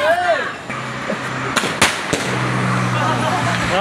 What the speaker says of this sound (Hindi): थोड़ी सी आतिशबाजी करते हैं।